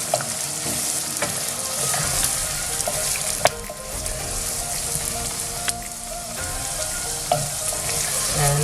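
Fish and bean curry with onions being stirred in a pan, a steady loud sizzle with scraping and clinks of the spoon against the pan throughout, no talking.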